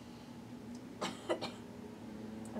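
A few quiet coughs during a power yoga stretch with the chin lifted: two or three short, close bursts in the middle, alone in a quiet room.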